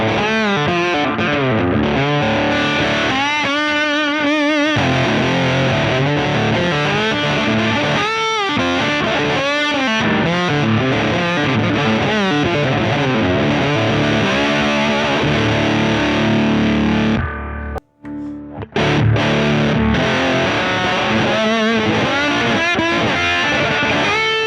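Mahogany lap steel guitar played through its pickup with distortion and effects, sustained slide notes and chords ringing loudly throughout, broken by a brief near-silent gap before playing resumes.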